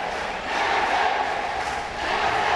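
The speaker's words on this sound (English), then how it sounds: "You can hear the crowd going off" A basketball crowd roars and cheers at the Royal College Sports Complex during a men's division final, a dense, loud, steady wall of voices that swells slightly without letup.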